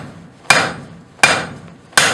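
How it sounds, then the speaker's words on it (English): Three sharp metallic strikes of a 3-pound hammer on hot steel on an anvil, evenly spaced under a second apart, each ringing briefly before the next blow. "Come down flat on the anvil with flat blows"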